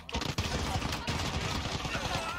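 Gunfire in a video game shooter crackles as a dense, continuous fusillade of rapid shots, loud and close throughout the short burst.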